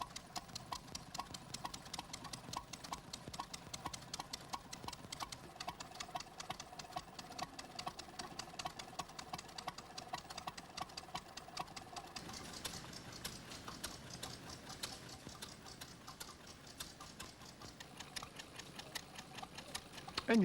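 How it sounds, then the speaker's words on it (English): A hit-and-miss governed vintage industrial engine running, with a quiet, continuous mechanical ticking and chuffing rhythm that holds steady throughout. "the governing was usually of a hit and miss type, which caused the engine to make lovely popping sounds"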